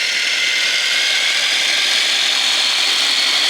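A 2021 Axial RBX10 Ryft 4S brushless solid-axle RC car motor under throttle on open prairie, a loud steady high whine with constant level and no pauses.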